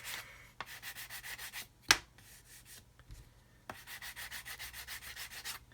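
Repeated back-and-forth strokes of a 220 grit sanding stick over model kit filler on a 1/72 plastic aircraft kit, a light, steady rasping rhythm in two bursts separated by a short pause and a sharp click.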